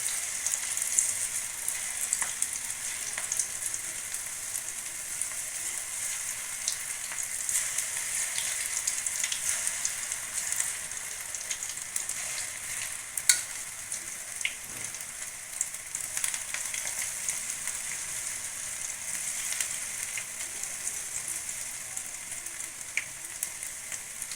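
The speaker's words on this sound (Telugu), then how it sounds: "అన్నీ గోల్డెన్ బ్రౌన్ కలర్ వచ్చేదాకా వేయించుకొని తీసుకోవాలి." Wheat flour pakodas deep frying in hot oil, a steady, dense sizzle with fine crackling throughout, continuous and moderately close, with no talking.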